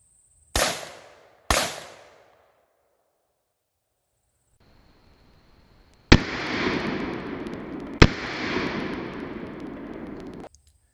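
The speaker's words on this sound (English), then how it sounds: "so we're gonna go ahead and shoot it two more times." AR rifle shots fired into a Tactical Scorpion Gear spall liner during a ballistic test: two sharp, loud cracks about a second apart, then after a pause two more impacts over a steady noisy rush.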